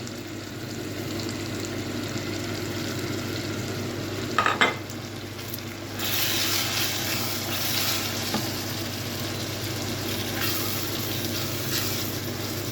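Ground spices for a spinach and potato curry are stirred and roasted in a pan over a medium flame, with a steady oily sizzle, a brief clatter of the spoon, and louder frying hiss partway through.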